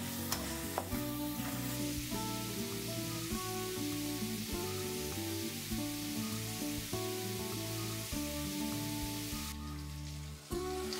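Onion and tomato sauté with biryani masala and spices in a pan, giving a continuous sizzle beneath a bed of steady tonal music; no one talks.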